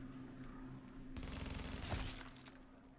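M4 rifle firing in The Division, a rapid burst of automatic shots with sharp cracking transients over a steady low hum, fairly quiet overall and tailing off into the background.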